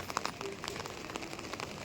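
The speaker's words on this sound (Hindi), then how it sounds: "सुबह सुबह बारिश होने लगी है" Morning rain falls steadily and softly, with a faint, even patter of drops on surfaces and no voices.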